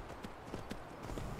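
Video game horse hooves clip-clop in a quick, even rhythm at moderate distance for a brief stretch over a soft ambient bed.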